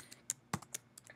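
Typing on a computer keyboard while writing Ruby code: a few sharp, separate key clicks at an irregular pace, close and clear, with no talking.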